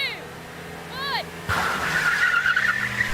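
Used £1,000 car launching from a standstill at a race start with clutch dumped, a sudden loud engine roar and tire noise after a brief quieter lead-in with faint squeaky sounds, close by.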